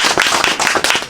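Audience at a Korean beekeeping association seminar clapping, a short burst of dense, close hand claps with no talk over it.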